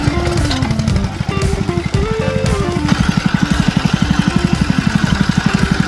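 A small engine, just started, idles loudly and close by with a steady, rapid thumping pulse after a few falling and rising pitch shifts.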